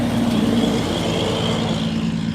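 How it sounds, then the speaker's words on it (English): A big truck passes on a street in Cotopaxi, Colorado, its loud engine drone steady and close, then slowly easing off. "There's a big truck."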